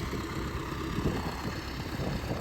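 An MTZ-82 tractor's engine idles steadily at a hayfield, a continuous low rumble that holds at an even level throughout, with no voices.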